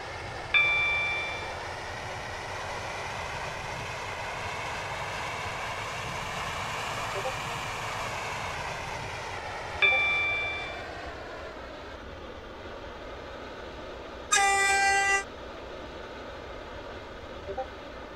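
Class 730 train running from Greenslade to Newry, with steady rolling rumble and cabin hum throughout, a two-tone ding near the start and another around ten seconds, and a brief bright burst of chimes toward the end.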